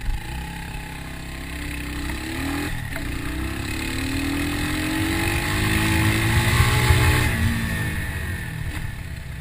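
A 2020 Bristol Classic 250 motorcycle engine drones steadily under riding wind, rising in pitch and swelling louder midway as the bike accelerates at speed.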